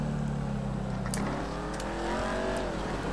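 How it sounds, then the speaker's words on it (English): A car engine in GTA V drones low and steady, then rises in pitch as it revs up, a smooth synthetic-sounding roar with no voices. "Oh, this car sounds naughty."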